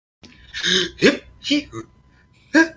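A voice imitates the speech of the alien Kolrathi, making a quick string of sharp gasping inhales and short yips, about five close bursts with pauses between them.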